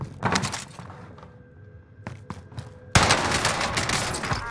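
Gunfire in Warzone on Rebirth Island, with scattered shots and thuds early on, then a sudden loud stretch of sustained automatic fire close by.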